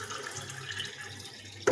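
Water is poured in a thin stream from a measuring cup into a mixing bowl, a faint, steady trickle ending in a louder splash.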